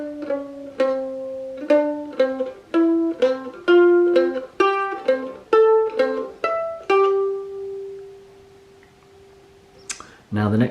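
Mandolin picking a song's riff, a brisk run of bright plucked notes that settles onto a sustained final note, close and solo, followed by a short burst of handling noise at the end.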